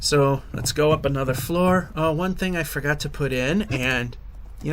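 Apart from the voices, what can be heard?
No distinct noise like a dog, phone or traffic.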